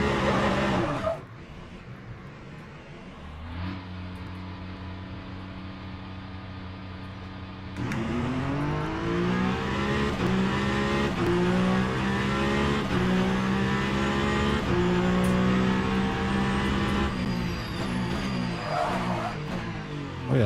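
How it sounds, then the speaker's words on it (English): A race car engine in the Le Mans Ultimate racing game idles, then revs up through distinct gear shifts into a sustained, loud high-rpm drone with rising and falling pitch, heard close and alone. "Oh yeah, this car also sounds nice."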